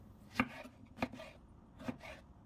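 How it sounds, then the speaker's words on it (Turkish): Three sharp knife chops through vegetables on a cutting board, spaced unevenly about half a second apart, close and crisp with quiet pauses between. "Sebzelerin erimemesi için biraz iri iri doğrayalım."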